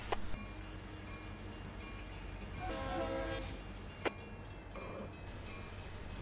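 An SD40-2 diesel locomotive coasts in a train video game, with a low, steady rumble, faint rail rattle and a couple of brief clicks, quiet and without talk.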